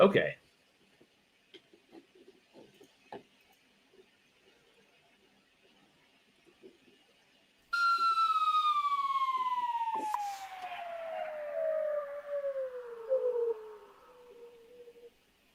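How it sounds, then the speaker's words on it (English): After scattered faint clicks, a slide whistle sounds a long, steady tone that glides downward over several seconds, loud and close, then fades out. "The slide whistle didn't finish."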